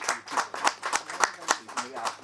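Audience members at a theatre performance clap in a quick, steady rhythm of sharp, close hand claps, about four per second, with voices talking underneath.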